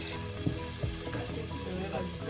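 Onions going into a pan for a stew of salt cod with African eggplant, giving a steady close sizzle of frying with a few short clatters of stirring.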